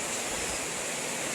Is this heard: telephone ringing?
no